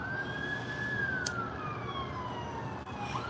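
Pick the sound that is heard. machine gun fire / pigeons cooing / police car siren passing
police car siren passing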